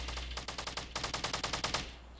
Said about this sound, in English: Oh, I can hear some gunshots.